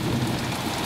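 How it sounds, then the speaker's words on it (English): Heavy rain pours steadily through a short, moderately loud stretch of a thunderstorm with tornado conditions, with a low rumbling wash of distant thunder beneath it and no voices. "you might be able to hear all the thunder that's going on"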